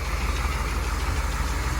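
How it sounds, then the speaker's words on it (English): A Dodge Challenger with a 318 V8 idles steadily with a slight exhaust leak, a loud, constant low rumble close by with a faint regular tick riding under it. "A little bit of a slight exhaust leak."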